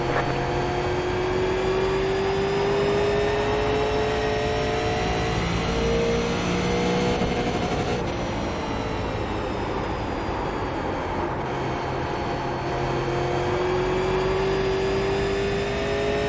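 A Super Late Model race car in iRacing, on the Richmond track during a setup session, roars with a loud, continuous engine drone whose pitch rises and dips as the throttle is worked, heard alone without voices.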